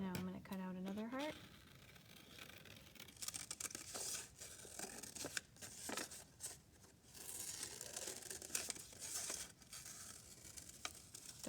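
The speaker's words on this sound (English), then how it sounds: "And now I'm going to cut out another heart." Scissors snip through paper while a heart shape is cut out, a series of faint close crisp cuts and rustles, with a person talking quietly at the start.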